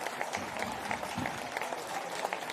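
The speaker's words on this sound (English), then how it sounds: "A big applause to the team managers." At a powerchair hockey European Championship final between Switzerland and Finland, the arena crowd applauds the team managers, a soft, steady patter of clapping heard from a distance.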